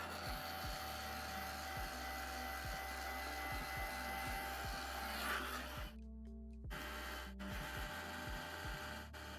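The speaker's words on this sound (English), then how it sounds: "Hair dryer is on." A long-unused hair dryer runs with a steady, droning motor whine and a rough, rattling undertone throughout, briefly dropping out near the end before resuming.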